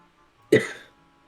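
A single short cough, sharp and close, fading quickly into quiet.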